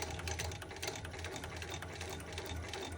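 A sewing machine runs continuously while stitching a seam, a fast, even mechanical whir with a rapid needle patter, close and steady throughout without any speech.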